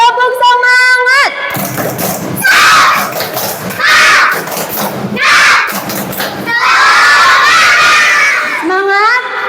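Young schoolchildren in a classroom doing a 'tepuk semangat' clapping chant, bursts of loud shouted chanting mixed with thumps and claps, a sung voice at the start and end.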